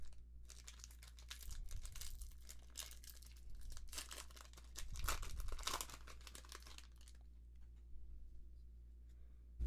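A Magic the Gathering Dominaria booster pack being torn open, with close, bursty crinkling and tearing of the foil wrapper lasting several seconds, then quiet handling.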